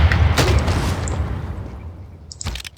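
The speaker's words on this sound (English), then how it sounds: "I shoot him with a cannon, he dies." A loud, deep boom from artillery cannon fire in Civilization VI bursts out at the start and rumbles away over a couple of seconds, followed by a smaller thump near the end.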